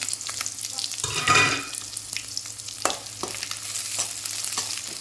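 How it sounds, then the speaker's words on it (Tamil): Chili and onion are dropped into hot oil in a kadai, setting off a loud burst of sizzling that eases into steady frying, with a few stirring clinks over a low background hum. "எண்ணெய் சூடானதையும் நம்ம வந்து மிளகா வெங்காயம் போட்டுக்கலாம்"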